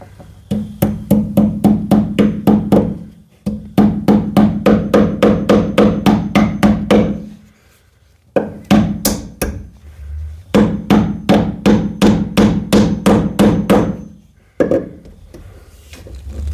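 Rapid hammer blows on wood during a light fixture installation, loud and close, delivered in quick repeated bursts of a dozen or so strikes separated by short pauses.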